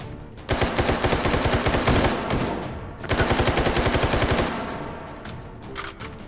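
Automatic gunfire in the H3VR Take and Hold virtual reality game, two long rapid bursts of loud, close shots separated by a brief pause, followed by a fading tail.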